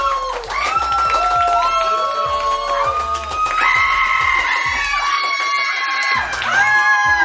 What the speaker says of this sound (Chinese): 掌声加尖叫，欢迎